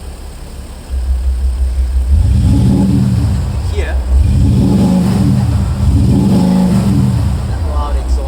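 A Maserati Levante engine in sports mode revs repeatedly from idle, three or four deep, loud throaty surges of exhaust close by, with a brief spoken word at the start.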